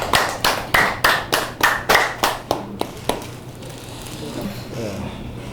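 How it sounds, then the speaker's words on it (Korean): At a Buddhist scripture book launch in Korea, an audience claps about ten times in a steady, unified rhythm, growing softer before stopping, and quiet room noise follows. "박수 한번 치시죠"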